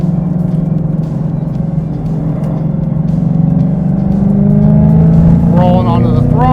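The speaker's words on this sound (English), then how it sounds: "Rolling onto the throttle. Rev match downshift, which is pretty cool." A modified 670 hp Mustang track car accelerates and blips through a rev-match downshift, its loud, continuous engine drone climbing in pitch toward the end while a voice talks over it.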